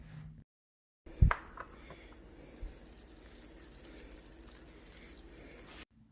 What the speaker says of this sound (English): Look at that bubbling